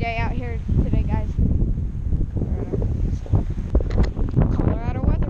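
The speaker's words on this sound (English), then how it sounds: "Kind of a windy day out here today" Strong wind gusts outdoors on a blustery Colorado day during electric bike testing, a steady broadband rush buffeting the microphone throughout, with people talking over it.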